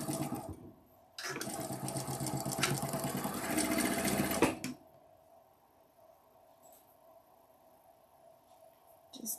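Sewing machine stitching quilt pieces, a steady, close mechanical whir running for about three and a half seconds, then stopping abruptly, followed by quiet handling sounds.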